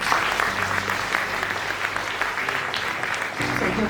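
An audience at a Rwandan Umuganura celebration in Oslo breaks into steady, dense applause that continues throughout at a fairly loud level, with a brief murmur of voices underneath.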